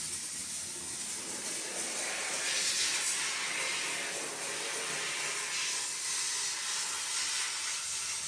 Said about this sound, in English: every fixture in the bathroom with the dry steam